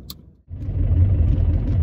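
A car driving along a road, its engine and tyre rumble steady and close after a short quiet gap at the start.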